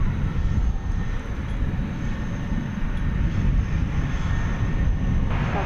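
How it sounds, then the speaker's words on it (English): An American Airlines Airbus A320 jet arriving at DFW Airport at night from Austin gives a steady, broad engine roar that holds loud and even the whole time, with no voices. "Turn our attention to a flight coming in from Austin, an Airbus A320 flight 2767 American"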